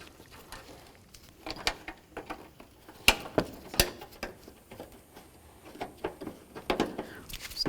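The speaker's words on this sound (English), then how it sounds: "Get these upper bolts started in here." Upper radiator bolts are threaded in by hand on a 1992-99 GMC K1500 truck: quiet, scattered metallic ticks and taps close up, with a few sharper clinks in an irregular rhythm.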